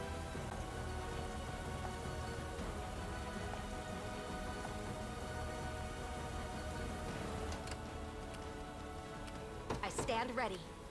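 Rain falls steadily in the video game Unicorn Overlord as a constant soft hiss of drops, with a voice speaking over it and a brighter burst of effects near the end.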